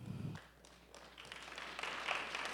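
Scattered claps begin at a dementia-friendly community conference in Bloomington, then build into fuller, brighter applause toward the end, while a brief low voice sounds at the very start.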